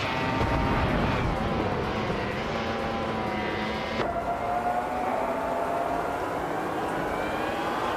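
A 2006 Ferrari 248 F1 race car launches from the starting grid in a racing game, its high-pitched engine screaming loud and steady, rising and shifting pitch as it accelerates away.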